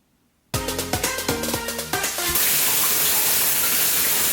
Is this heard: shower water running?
yes